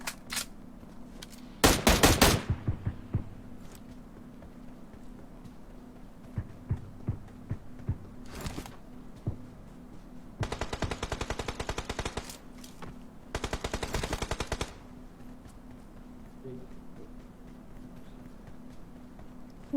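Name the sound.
M4 rifle gunfire in a video game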